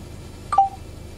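A Carrobot car head-up display sounds a short electronic telephone-dialing tone pair, clear and close in an otherwise quiet cabin.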